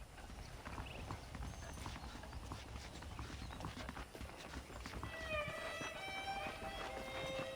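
Horses clip-clop through Red Dead Redemption with a continuous, fairly quiet patter of hooves throughout. Faint tonal sounds rise in the background toward the end.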